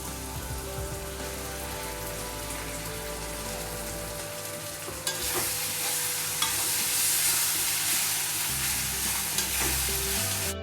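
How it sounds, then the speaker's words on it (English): Tomato puree hitting onion, ginger and masala in a hot pan for Punjabi rajma, a steady sizzle that jumps into a louder, brighter crackling fry halfway through, close and continuous with no talking. "So now we'll add this tomato puree to it."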